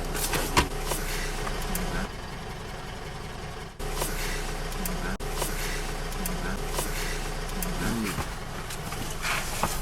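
A car drives along the Kapiti Expressway alignment in New Zealand, heading south toward Raumati Road, with a steady engine and road hum, occasional bird coos nearby and people talking over it.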